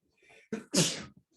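A single person's sneeze, a short indrawn breath followed by a sharp, loud burst, close and alone.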